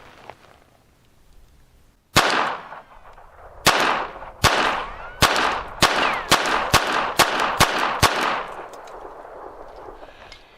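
A Phoenix Arms HP22 pistol, freshly cleaned and lubricated, fires about a dozen sharp, loud shots at an outdoor range, first with uneven gaps and then in a quicker steady string, each crack ringing briefly before the next.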